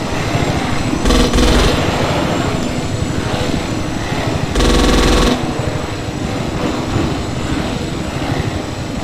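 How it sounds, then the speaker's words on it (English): A helicopter flies in the video game Desert Combat, a loud steady engine and rotor drone with two brief louder bursts, no talking. "It's so difficult flying the helicopters"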